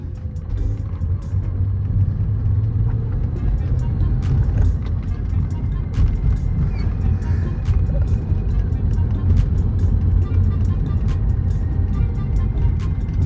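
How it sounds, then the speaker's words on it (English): A Lexus GS300 engine runs continuously with a loud, low rumble as the car drives along, with faint clicks and rattles over the steady drone. "the car runs and drives"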